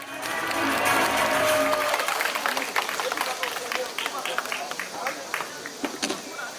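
A crowd at an outdoor rally in Changwon protesting Japan's nuclear wastewater release applauds to welcome a priest, loud clapping at first that thins into scattered claps under crowd noise and talk.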